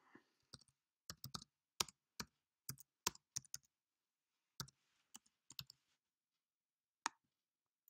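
Keys on a computer keyboard tapped during programming of a maths game in Scratch, coming as sparse short bursts and isolated clicks separated by pauses, quiet and close with no talking.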